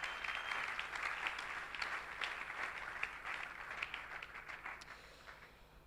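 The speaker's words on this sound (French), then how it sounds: "Acclamons le Seigneur pour sa parole." A church congregation applauds together, a dense, steady wash of many hands clapping that fills the room for several seconds before easing slightly toward the end.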